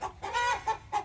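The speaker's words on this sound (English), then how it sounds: "Just lays here with the chickens," Chickens clucking close by, a few short soft clucks in quick succession, faint and alone.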